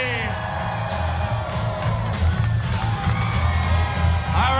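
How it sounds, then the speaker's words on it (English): A crowd at a Coney Island stunt show keeps up steady cheering and whooping, with scattered shouts, loud and sustained throughout. "The more you cheer, the higher they go"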